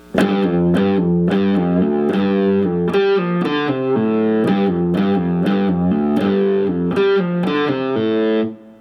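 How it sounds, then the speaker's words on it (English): Distorted electric guitar plays a chorus riff, a loud, steady run of chugging chords with sharp repeated attacks, alone and with no voices. "beginning our chorus section with a quick demonstration, the riff will sound like this"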